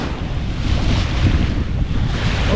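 A sailboat moving on the Inner Sea roughly 80 degrees off the wind, with steady wind buffeting and rushing waves close around, loud and continuous with no voices.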